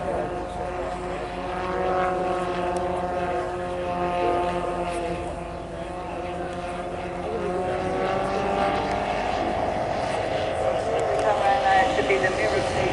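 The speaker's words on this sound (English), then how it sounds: "the bottom aircraft flies along straight and level and the top aircraft will do the same thing but inverted" Two model aircraft flying a mirror manoeuvre at the Woodspring Wings model air show give a steady, droning propeller hum with slowly shifting pitch, with people talking over it throughout.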